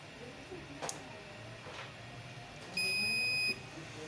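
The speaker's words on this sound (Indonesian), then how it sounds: "saya akan menyalakan inverternya terlebih dahulu." A 12V-input pure sine wave inverter kit rated 3000W gives a single sustained electronic beep, close and clear, lasting under a second as it powers on, with faint background hum and a few soft clicks before it.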